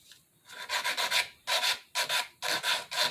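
Repeated strokes of a nail file shaping a stiletto nail, rasping up one side and down the other in short bursts with brief pauses, close and fairly loud with no talking.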